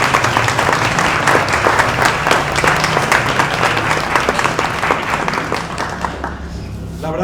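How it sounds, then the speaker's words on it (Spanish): Applause rises from an audience at a book presentation in a theatre café, individual claps distinct within a moderate, close crowd, tapering off near the end with murmured voices beneath. "Para ellos un fuerte aplauso"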